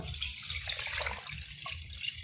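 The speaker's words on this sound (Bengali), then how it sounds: "এবার দিয়ে দেবো পরিমাণ মতো জল" Water poured into a pressure cooker holding mutton, a soft, continuous splashing trickle heard close and fairly quiet, running steadily without any voices.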